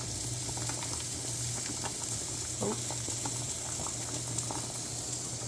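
Onions and potatoes fry in a pan, a steady close bubbling sizzle with a low background hum and scattered pops throughout.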